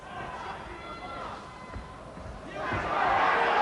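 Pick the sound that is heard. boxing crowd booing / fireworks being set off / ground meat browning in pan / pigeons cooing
boxing crowd booing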